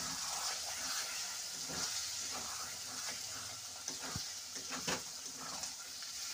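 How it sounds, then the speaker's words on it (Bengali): A paneer curry with potato, tomato and carrot sizzles in a pan as it is stirred, a steady frying hiss broken by a few scraping strokes of the spoon, close and fairly quiet, with no talk. "তো ঢাকা সরিয়ে আবারও একবার নাড়াচাড়া করে নিচ্ছে"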